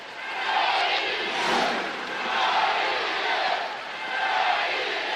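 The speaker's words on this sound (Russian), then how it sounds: "Слышите, да, поддержку трибун." Hockey crowd in the stands at a Stroitel Syktyvkar versus Uralsky Trubnik match, a loud, steady roar of cheering and chanting that swells in waves, with no talk over it.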